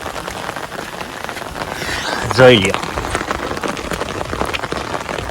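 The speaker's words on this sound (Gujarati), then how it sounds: "ધીમો વરસાદ આવે છે અને મોટર બંધ કરી દીધી છે" Light rain falls steadily on a village homestead, making a soft, even hiss throughout, while a person speaks briefly near the middle.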